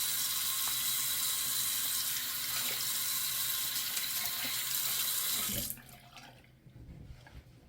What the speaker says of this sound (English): Definitely cool water rinse.